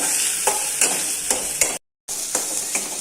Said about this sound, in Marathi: मला तेल सुटेपर्यंत आपण परतून घेणार आहोत हा मसाला.